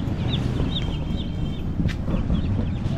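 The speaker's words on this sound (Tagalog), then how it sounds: "Oh, daming sisiw." Many chicks at an agricultural supply store give short, high, repeated peeps above a steady bed of store background noise.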